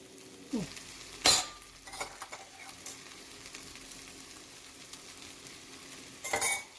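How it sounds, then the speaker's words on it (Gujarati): Gram flour and peanuts being stirred into an okra curry in an oiled pan: faint sizzling with a few sharp spoon scrapes and clinks against the pan, one near the start and one at the end. "ચલો હવે આપણે બેસન અને સિંગ દાણાને શાક સાથે મિક્સ કરી લેવાનું છે."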